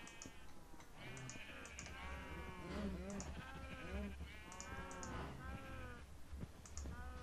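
Several sheep in a video game (Minecraft Tekkit modpack) bleat repeatedly, overlapping calls rising and falling, with small clicks and a low rumble in the background.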